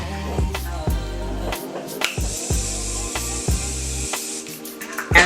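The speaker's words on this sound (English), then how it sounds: "we're gonna go in with the Morphe Continuous Setting Mist, and this is just gonna melt those powders into the skin" Morphe Continuous Setting Mist sprayed onto the face, a series of short, close hissing bursts with brief pauses between them.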